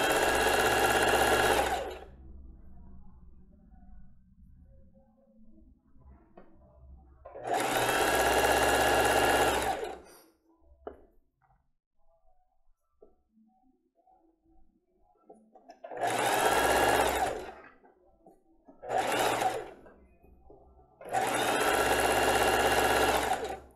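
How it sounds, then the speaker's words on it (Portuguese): Sewing machine backstitching elastic onto children's underwear: several loud, close bursts of steady mechanical whirring, a few seconds each, broken by quiet pauses with faint handling noises. "eu vou dar um retrocesso, porque senão corre o risco de depois desmanchar a costura"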